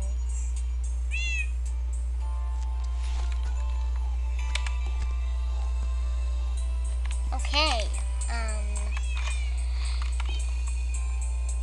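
Pet cats meow at a birthday celebration with a cake, several short, rising calls scattered through the scene, while someone talks over them and a low electrical hum sits underneath.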